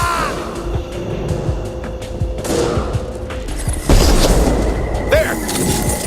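Sustained gunfire and explosive booms in the Mass Effect 2 video game, a dense battle din with bursts of shots and a heavier blast near the middle, shouted commands heard over it.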